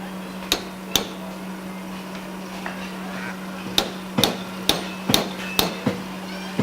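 A blacksmith's hammer rings on hot steel while a dragon head is being forged, shaping its snout; a few sharp metallic strikes, then a quicker run of close, loud blows over a steady low forge hum.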